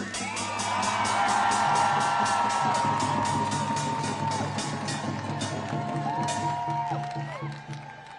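A big outdoor crowd at a Palestine support rally in Bryant Park, New York cheers, whoops and shouts loudly, with clapping underneath. The roar swells early, stays sustained and eases slightly toward the end.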